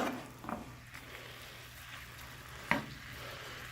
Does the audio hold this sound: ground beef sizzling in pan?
yes